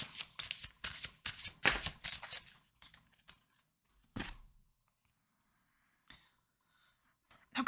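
Oracle cards shuffled by hand, a burst of rapid riffling and flicking up close for about three seconds, then a few isolated card taps and slides in a quiet room.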